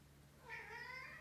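A cat meows once, a drawn-out, wavering cry that rises clearly over a quiet room with a low steady hum underneath.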